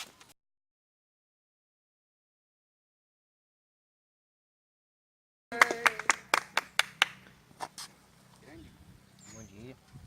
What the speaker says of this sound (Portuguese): E uma salva de palmas.